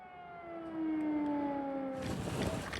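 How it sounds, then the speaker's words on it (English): An air raid siren wails steadily in wartime Ukraine, sliding slowly downward in pitch, then rougher broadband noise rises as the tone fades near the end. "Rescuers race to find survivors in the rubble, but are forced to seek safety when an air raid siren rings out"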